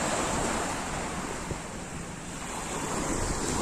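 Ocean waves rolling onto a beach with steady wind buffeting the microphone, a continuous broad wash of surf close by and fairly loud, without distinct breaks.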